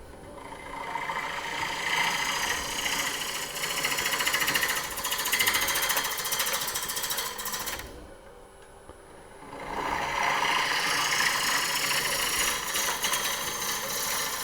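A wood lathe runs loudly as a tool turns the bottom of a platter, a continuous whirring, scraping drone that briefly drops away before resuming, close and with no voices.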